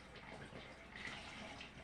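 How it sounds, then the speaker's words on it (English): Chicken stock pours steadily from a box in a soft, continuous gurgling stream, faint and close, with no talking. "I'm just going to pour the rest of the box of chicken stock"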